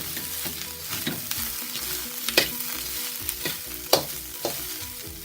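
Sugar snap peas stir-fry in a hot pan for beef ramen, a steady close sizzle broken by repeated scraping and tossing clatters of the utensil, with no talk.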